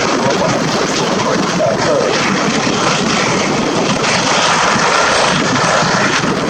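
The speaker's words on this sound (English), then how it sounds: "flying the light support helicopters, the H145Ms, and the medium transport helicopter CH-53" Steady, loud rotor and engine roar of H145M and CH-53 military helicopters flying overhead at the ILA 2018 air show, a continuous broadband drone with no break.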